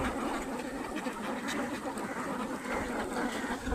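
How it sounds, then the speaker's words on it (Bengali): Ducks on a duck farm quack in a dense, continuous chorus while being fed their morning meal, the calls overlapping steadily throughout with no pauses. "এই দেখেন আমার হাঁসকে সকালের খাবার দিচ্ছে"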